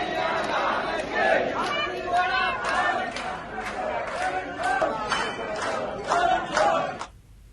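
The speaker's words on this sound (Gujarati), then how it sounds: "મંદિર પરિસરમાં ભક્તોની ભારે ભીડ જામી" A dense crowd of devotees packs the Dakor temple grounds during the Holi festival. Their shouting, cheering and chatter form a loud, continuous roar close by that swells several times before cutting off.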